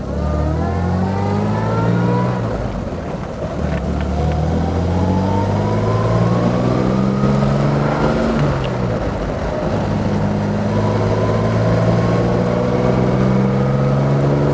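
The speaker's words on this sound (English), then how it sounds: "Very sweet engine." A 1960 Jaguar XK150 3.4 SE fixed-head coupe's straight-six engine accelerating on the road, heard loud and close from inside the car, revs climbing repeatedly through gear changes with a steady, smooth drone.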